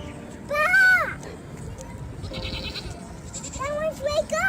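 Sheep bleat in short wavering calls near a baby and other animals. One loud cry comes early and quieter bleats follow toward the end, with a voice and background chatter around them.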